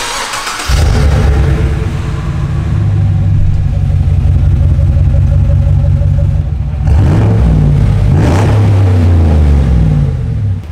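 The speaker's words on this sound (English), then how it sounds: "Let's hear what the exhaust sounds like." A lifted Chevrolet Silverado truck's exhaust starts up loud and close, then settles into a deep, steady idle rumble. Two throttle blips rev the engine before it returns to idle.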